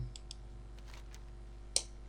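A soft mouse click accepts a quest in World of Warcraft, one sharp near tick standing out against quiet background hum, with a few fainter clicks earlier.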